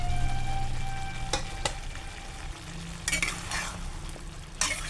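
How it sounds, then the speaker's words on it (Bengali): Fried eggplant goes into a sizzling pan of vegetables and lentil dumplings and is stirred, giving a continuous frying hiss broken by several loud, close scraping and clattering bursts. "আমি এখন ভাজা বেগুনগুলো দিয়ে দেব।"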